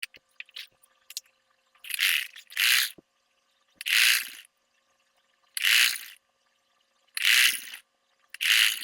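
A straight-stitch sewing machine runs along a folded fabric edge, about one inch deep, for a garment sleeve, in six distinct stitching bursts of about half a second each, separated by pauses, with faint handling clicks in between and no talking.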